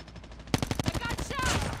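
Rapid gunfire from the mobile shooter game Call of Duty Mobile bursts in after a quiet half second, a quick run of loud repeated shots with a voice speaking over the action.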